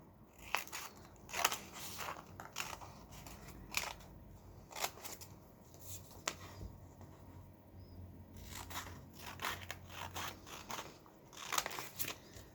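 Scissors snip strips of paper for paper weaving, a run of sharp crisp cuts in uneven bursts with short pauses between, close and fairly quiet.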